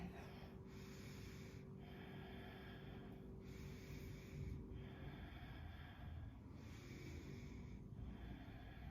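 Slow yogic ujjayi breaths, a soft whispering rush in the back of the throat, rising and falling in steady cycles about every two seconds, faint and close with a low hum underneath.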